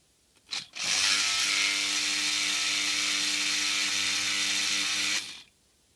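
A Lucas Screenjet 2SJ electric windscreen washer pump runs for about four seconds, a loud steady buzzing whine that starts abruptly after a click and cuts off cleanly, close and alone.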